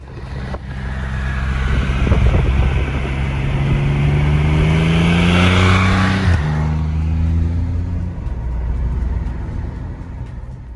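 A 2021 Triumph Rocket 3 R Black Limited Edition motorcycle ridden on a highway, its large engine droning loud and steady with rising and falling harmonic tones as it accelerates, then a brief shift and a settling cruise under wind rush.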